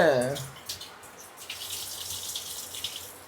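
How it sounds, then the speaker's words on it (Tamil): Water poured or running from a tap while mutton biryani is being cooked at home, a steady splashing wash after a brief voice at the start, moderately quiet and close. "ஐயோ தெரியாமல் தண்ணி ஊற்றிட்டேன்."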